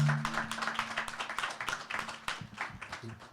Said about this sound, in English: Everybody clap around,